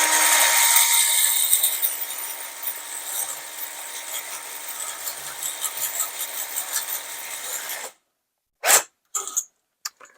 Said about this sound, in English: this is just a cylinder hone